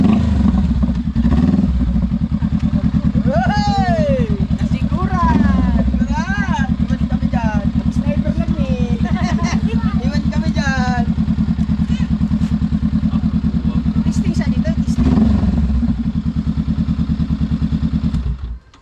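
A big bike motorcycle idles with a loud, deep, steady rumble throughout, close by. Several people talk and call out over it, and the engine cuts off at the end.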